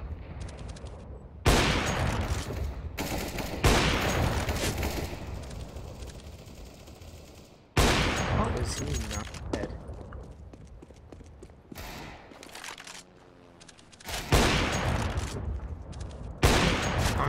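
Rapid gunfire from a first-person shooter video game, loud bursts and volleys of shots repeating in clusters with brief gaps between them.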